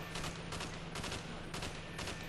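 Gunfire in the video game Black Ops, a steady string of rapid shots with bursts recurring about every half second, moderately loud and dense.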